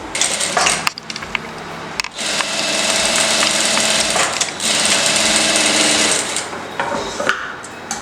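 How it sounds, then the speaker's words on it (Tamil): A sewing machine runs in long continuous bursts while stitching the shoulder seam of a collared blouse, loud and close, with brief pauses between runs and no talking. "ஸோ அடுத்த ஷோல்டரையும் இப்போ அதே மாதிரி நம்ம லே பண்ணி மேலே நம்ம தைக்கிறோம்."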